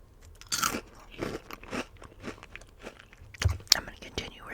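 Crunchy Hot Cheetos bitten and chewed up close in a whispery eating session, with several sharp crunches spread through the clip and soft murmured talk between bites.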